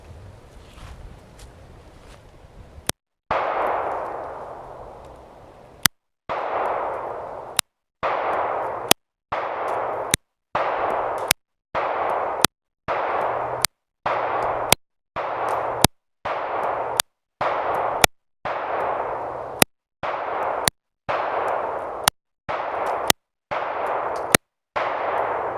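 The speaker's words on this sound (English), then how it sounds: "let's put some rounds down range, see how the groupings look" Shots from an EAA SAR B6P pistol at a shooting range ring out as a long series of sharp, loud reports, evenly spaced about a second apart after a few slower opening shots.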